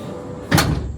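Power side door of a Chevy BrightDrop 400 electric van opening by key fob: a quiet mechanical hum, then a sharp, close latch clunk followed by a brief rolling slide.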